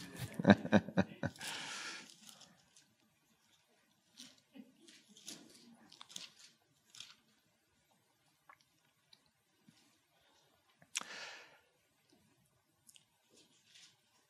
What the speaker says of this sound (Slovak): Zvuk šušťania Biblii.